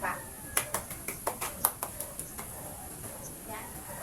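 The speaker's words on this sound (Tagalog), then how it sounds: "bigyan ninyo ang inyong mga sarili ng palakpak" Children clap for themselves in a classroom, a run of about a dozen sharp, fairly even claps that start crisp and gradually fade and loosen, with faint voices underneath.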